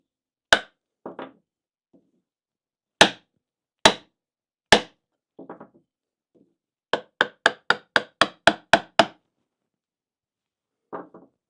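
Chisel struck with a mallet to cut a dovetail line by hand in wood: sharp, isolated knocks, then a fast burst of about eight evenly spaced blows, close and loud against silence.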